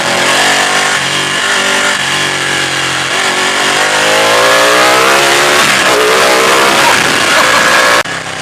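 Ducati 899 Panigale motorcycle ridden on rough road, its engine loud and close, revving up and down with rising and falling pitch sweeps through gear changes, then cutting off sharply near the end.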